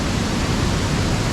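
Waterfall on a creek in Finch Hatton Gorge, a dense, even roar of falling water with no break or voices.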